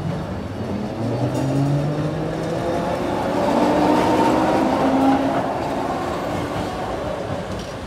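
A German-made tram passes on a Timișoara line, a steady loud rolling rumble with rising and falling motor whine, swelling near the middle as it goes by, with no talk.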